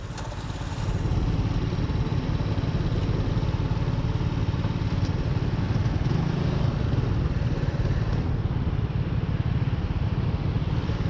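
A Honda Super Cub NBC110 custom motorcycle engine runs steadily and close up for about ten seconds, a dense low mid-range drone with mild throttle changes and no clear high revving peaks.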